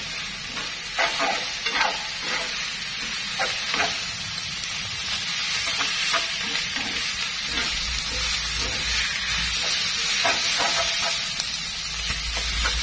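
Beef noodles with scallions are stir-fried in a hot pan, giving a steady close sizzle with scraping stir strokes throughout.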